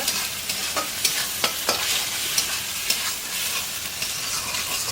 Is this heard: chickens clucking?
no